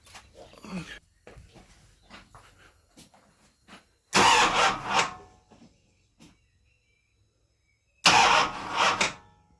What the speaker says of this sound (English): Right, crank the engine, make sure it's not flooded.